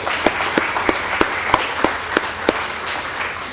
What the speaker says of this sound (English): give a big round of applause for all the speakers, panelists, and the chairs and attendees